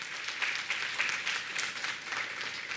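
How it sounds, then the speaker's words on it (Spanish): A church congregation claps for President Luis Abinader during a sermon, a short burst of mid-distance applause with uneven rhythm and no clear speech. "Denle un aplauso al presidente Luis Abinader"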